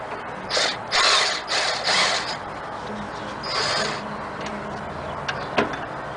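Ratchet working a bolt through the pulley on a Toyota 3.4L 5VZ-FE engine, heard as several short bursts of clicking with pauses between them, fairly close, against a quiet workshop background.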